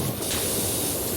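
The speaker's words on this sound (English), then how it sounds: "you just see the power washer spray out yellow" A power washer in the PowerWash Simulator video game sprays in a steady, loud, unbroken hiss that fills the whole moment with no voices.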